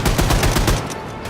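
Rapid automatic gunfire from a weapon in a video game, a dense string of loud, evenly spaced shots filling the whole moment with no talking over it.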